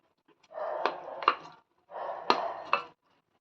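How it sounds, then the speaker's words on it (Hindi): Fried, cut paneer pieces go into a pan of boiling gravy in two short close bursts of bubbling and sizzling, each with a metallic clink of spoon on pan. No talking. "अब इसमें ये जो फ्राई किया हुआ पनीर है, इसको हमने कट कर लिया है, अब इसको डाल देंगे"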